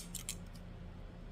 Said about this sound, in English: These are pinking shears.